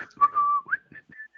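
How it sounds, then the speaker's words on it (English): A person whistles a brief, short tune of a few quick notes, a rising slide followed by two sustained tones, close and clear against silence. "whistle."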